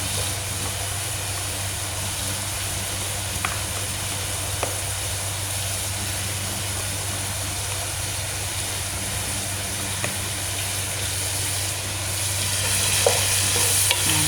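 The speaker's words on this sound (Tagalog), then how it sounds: "Ilagay natin ang ating sitaw. Saka ang ating carrot." String beans and carrot frying together in a pan, a dense, even sizzle and crackle sustained throughout over a low steady hum, with a few faint spoon taps and a slight rise in intensity toward the end.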